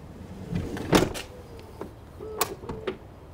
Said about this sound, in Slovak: Je to elektrický doťah dverí, nie elektrické dvere, ale elektrický doťah dverí